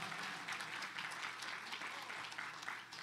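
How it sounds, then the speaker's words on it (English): A church congregation applauds a pastor, a steady patter of many hands clapping, faint and distant, holding evenly without breaks. "Let's give Pastor Craig a great round of applause."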